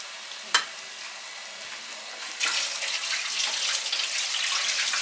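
Food frying in hot cooking oil for tacos, a sharp sudden crackle followed by a steady loud sizzle that swells after a couple of seconds and holds, with no talking.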